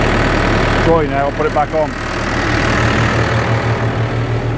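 A Case tractor engine idles after warming up, a steady low throbbing rumble that runs through the whole clip, with someone speaking briefly over it near the start.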